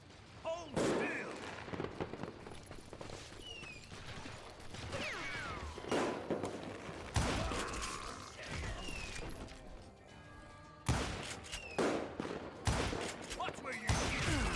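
Gunfire in the western shooter game Call of Juarez: Gunslinger, with repeated loud gunshots and booming blasts spread through a busy battle mix, while voices talk over it.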